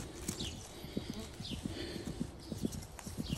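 Horse hooves clip-clopping on a road behind a person out foraging wild mushrooms, a steady rhythmic series of close hoof strikes with faint voices and background noise underneath.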